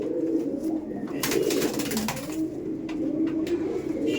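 A female Abluk pigeon kept at home coos in a steady, low, continuous murmur close by, with faint rustling and scraping over the top.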